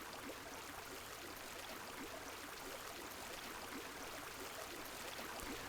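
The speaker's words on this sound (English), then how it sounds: "no music whatsoever, just the sound of water trickling" Soft, steady trickle of water at an onsen in Animal Crossing: New Horizons, a faint continuous wash with no music and no voices.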